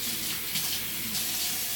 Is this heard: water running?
yes